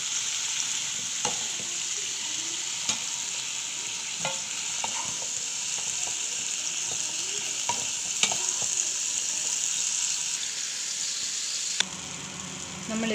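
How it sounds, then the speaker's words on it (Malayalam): Mushrooms frying in a pan after their water has cooked off: a steady, even sizzle with occasional scrapes and taps of stirring, close and moderately loud, with no voices. "ഇപ്പോൾ ഇതിനകത്ത് വെള്ളമെല്ലാം പറ്റി മഷ്റൂമെല്ലാം നല്ല ഫ്രൈ ആയിട്ടുണ്ട്."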